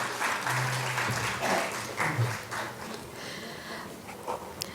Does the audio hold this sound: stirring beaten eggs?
no